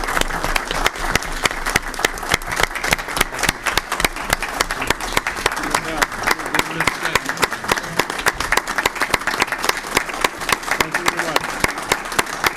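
A committee meeting audience gives a sustained round of applause, dense steady clapping from many hands filling the room throughout.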